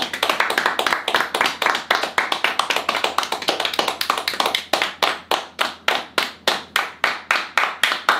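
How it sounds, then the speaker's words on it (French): An audience in Budapest applauds after a performance, loose clapping that gradually locks into a loud, synchronized rhythmic beat. "This is an audience in Budapest applauding after a performance."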